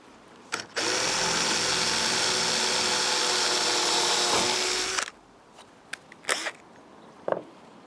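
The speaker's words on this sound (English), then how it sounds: "I'll pre-drill all the end ones, and then see there's already a little crack just there, so I'll pre-drill them." A power drill pre-drilling holes in reclaimed matai floorboards, one steady whine lasting about four seconds at close range, followed by a few short clicks and knocks.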